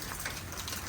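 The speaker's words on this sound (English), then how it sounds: "raining as hard as I've seen it rain so far this year" Heavy rain pouring outdoors on a foggy New England late afternoon, a dense continuous hiss filling the short moment without pause.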